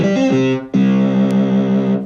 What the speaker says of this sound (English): I want to play a bass on top of a bass.